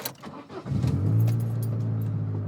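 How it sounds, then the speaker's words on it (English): A car engine turns over and settles into a low, steady running drone, preceded by a few brief clicks and knocks, heard alone at close range. "he gets in his car and makes the drive"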